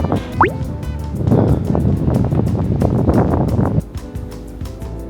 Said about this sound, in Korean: 암스테르담 전체에 바람이 진짜 많이 불어.